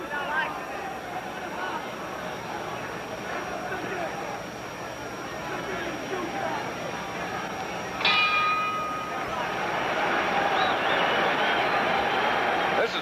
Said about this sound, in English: The bell in 10 seconds